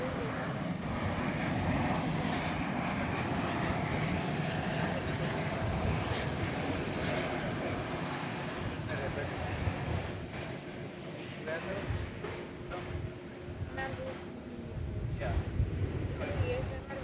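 A Delta Airbus A220 airliner arriving at DFW airport at night makes a sustained, fairly distant jet engine roar with a faint descending whine, heard with background noise.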